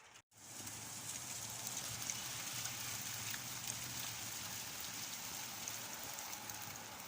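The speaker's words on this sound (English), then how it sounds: "Oh, it's raining on me now. Here comes the rain right here." Rain hisses down steadily outdoors as a storm arrives with hail, a close, even wash of drops that begins after a brief silent cut and continues unbroken.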